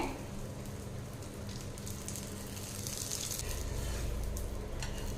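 An egg and okra masala omelette frying in a pan gives off a steady, close hiss and crackle of sizzling oil that continues throughout, growing slightly fuller toward the end.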